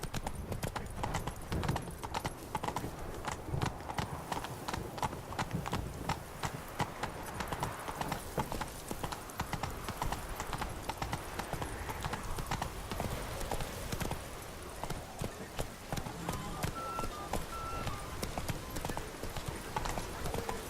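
Roach, a horse in The Witcher 3: Blood and Wine, gallops steadily with rapid, loud hoofbeats that clop in a continuous rhythm throughout, with a brief whinny and some faint game sounds mixed in.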